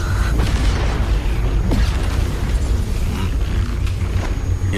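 A massive explosion in the animated series Swallowed Star gives a dense, sustained, rumbling roar of blast noise that stays loud and heavy throughout, with deep low end and no talk over it.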